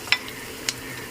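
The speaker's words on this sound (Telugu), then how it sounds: "తాలింపు వేగిపోయిందని వేసేద్దాం. చూడండి మనకి ఎంత చక్కగా ఫ్రై అయిపోతుంది" Tempering (talimpu) for bottle gourd dal frying in a pan: a soft continuous sizzle with two brief sharp clinks of a spoon stirring, close up and without talk.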